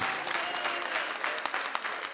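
Church congregation clapping hands in worship, a steady, fairly even run of clapping at moderate loudness for a couple of seconds.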